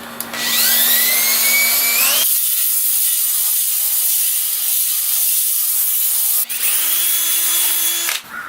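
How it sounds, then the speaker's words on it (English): A power tool fitted with a wire brush strips rust and paint off metal patio furniture, a loud close whine that runs, drops into a grinding rasp against the metal for several seconds, then whines free again. "I did get brave and decide to use the power tool, and let me tell you, it makes quick work out of getting the rust off, getting the paint off"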